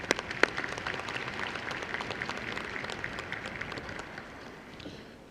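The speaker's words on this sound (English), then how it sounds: "Let's give them a round of applause." Applause from a university commencement crowd, a dense steady patter of many hands clapping with a few sharper nearby claps, holding strong before easing off near the end.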